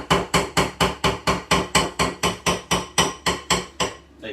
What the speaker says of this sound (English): Now I'm going to give it one little whisk, just to get rid of the lumps.